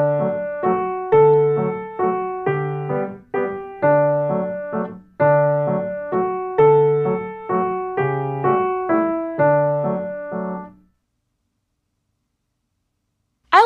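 Piano plays a lilting three-beat accompaniment, bass notes followed by repeated chords, steady and clear for about eleven seconds before stopping.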